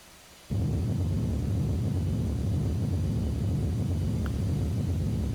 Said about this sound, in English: And with a nice and gentle touchdown.